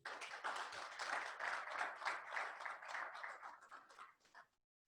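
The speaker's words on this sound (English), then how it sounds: "Can we give him a round of applause?" A crowd claps in a steady, dense patter of applause at moderate distance, tapering off and stopping near the end.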